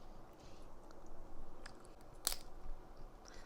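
Alaskan red crab in cheese sauce being eaten up close, quiet wet chewing with a few soft crunches and one sharper bite, faint and intimate with no talk.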